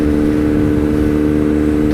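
A Kawasaki Z900 inline-four motorcycle fitted with a Racefit exhaust passes by, its steady, dense engine drone holding loud and close for the whole two seconds with no talking.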